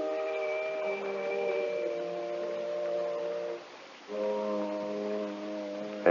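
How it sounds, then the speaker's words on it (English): A two-tone doorbell chimes inside a house, sustained electronic-sounding tones that ring once, pause briefly, then ring again, heard clearly with no talking. "You want to ring the bell?"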